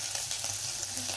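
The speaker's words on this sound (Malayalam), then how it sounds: "ഇനി നമുക്കിതിൻ്റെ അതിലോട്ട് അരിഞ്ഞു വെച്ചിരിക്കുന്ന ഇഞ്ചി ഇടാം" Chopped ginger dropped into hot oil with cumin seeds, giving a close, continuous crackling sizzle with small pops throughout.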